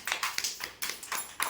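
Children clap their hands in a brisk burst, about seven sharp claps in under two seconds, near and fairly loud with nothing else heard.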